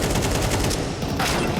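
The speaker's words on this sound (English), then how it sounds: "Oh, counter wall bang did do some damage" Rapid automatic gunfire from a wall bang through smoke in Counter-Strike on the Ancient map, a continuous dense rattle of shots, loud and close, with a brief dip in the middle.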